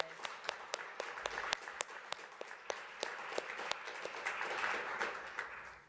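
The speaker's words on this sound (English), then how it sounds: "Let's give a round of applause to our speakers and presenters today." An audience at a housing market briefing applauds its speakers and presenters, a soft, distant wash of many hands with a few sharper individual claps standing out, steady for several seconds before fading.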